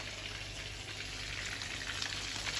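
Chicken chapli kebabs frying in a pan give off a steady, even sizzle, soft and continuous with a fine crackle throughout, no voices.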